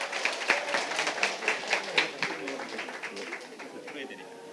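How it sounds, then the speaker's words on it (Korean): Audience at a happiness lecture concert clapping rhythmically in unison, steady pulsing beats at a moderate distance, fading slightly toward the end. "자, 박수로 맞이해 주세요."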